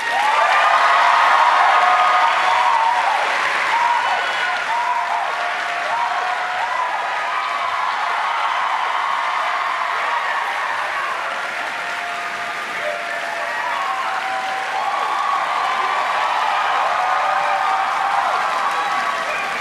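An audience at a speech event at UBC breaks into loud, sustained applause welcoming Hasan Piker on stage, continuous dense clapping with some cheering that swells and holds for about twenty seconds.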